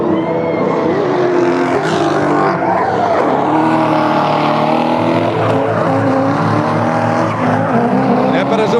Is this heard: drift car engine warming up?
yes